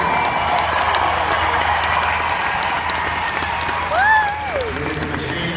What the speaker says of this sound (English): And let's give a big round of applause.